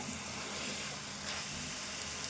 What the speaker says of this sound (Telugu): ఈ చికెన్ కూడా దగ్గర ఫ్రై అవుతుంది